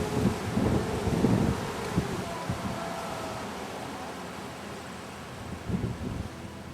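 Breezy wind blowing outdoors near a covered bridge in Vermont in autumn, a steady broadband rush with louder gusts near the start and again toward the end.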